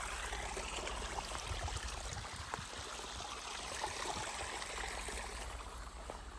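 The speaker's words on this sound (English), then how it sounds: "we built this little concrete little dam here, which makes a waterfall and makes noise for us" Water flows over a small concrete dam in a creek, forming a little waterfall with a steady, quiet rushing and trickling that continues unbroken, with no voices.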